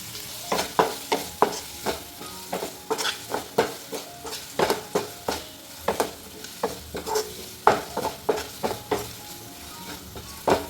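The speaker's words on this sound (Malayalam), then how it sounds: "കൂടെ തന്നെ കറിവേപ്പിലയും കൂടി ഇടുന്നുണ്ട്. ഇതൊന്ന് നന്നായിട്ട് വഴറ്റിയെടുക്കാം." Ingredients with curry leaves are sautéed in a pan for bitter gourd theeyal, with repeated rhythmic spatula scrapes and clatters over a soft sizzle, close and without talk.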